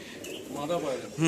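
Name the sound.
red chapka pigeons cooing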